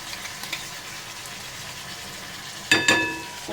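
Schezwan chutney frying in a pan over medium gas, a soft continuous sizzle with a few small pops, then two sharp clattering hits near the end.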